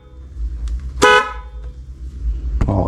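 A single short honk from a newly installed aftermarket dual car horn with a bright, harmonic-rich tone, followed by another brief blast near the end over a low idling rumble.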